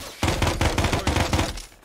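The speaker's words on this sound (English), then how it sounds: "Shots on the side of the building." Rapid automatic gunfire in Arma 3 during a Vietnam-era urban battle at Huế City, a loud close burst of repeated shots lasting over a second before cutting off.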